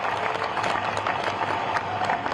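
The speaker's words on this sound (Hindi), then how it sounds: "एक बार जोरदार ताली आपकी बजनी चाहिए" Applause from a political rally crowd in a speech hall, continuous dense clapping at steady volume across the whole clip, with a faint low hum beneath it.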